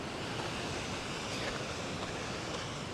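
Water runs downhill at Lassen Volcanic National Park as a steady, broad rushing roar, even and unbroken throughout, with no voices.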